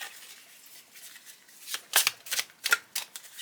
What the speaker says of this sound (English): It says thoroughly shuffle, cut, and restack the cards.